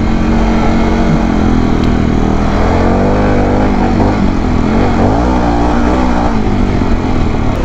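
A Harley-Davidson Pan America motorcycle engine revving at high RPM, a loud continuous roar with rising and falling pitch as the throttle works, close and steady with no talk over it.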